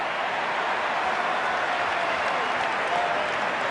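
A big stadium crowd at a 2011 Brisbane Broncos versus Manly rugby league match in Queensland roars and applauds in a steady, dense wash of noise that holds evenly throughout.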